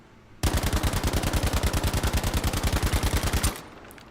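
A StG assault rifle firing in Battlefield V, a sustained rapid automatic burst of about three seconds with steady evenly spaced shots, loud and close, starting and stopping abruptly with no talking.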